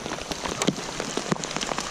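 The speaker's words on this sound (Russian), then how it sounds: "Вот такой вот град." Hail falls in a dense, steady patter of small hard impacts that hit close by in quick irregular ticks, with no voices.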